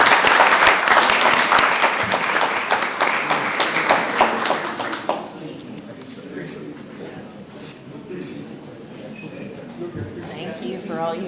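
Applause at a city council meeting, a burst of dense clapping from the room for about five seconds that then drops away into quieter murmuring and talk.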